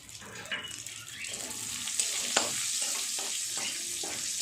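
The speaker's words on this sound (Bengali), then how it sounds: "ফোড়নের জন্য একটা তেজপাতা, একটা শুকনো লঙ্কা আর অল্প একটু গোটা মশলা" A bay leaf, a dried chilli and a few whole spices sizzle in hot oil for tempering, a steady bright crackle with a few stirring clicks, close up and without speech.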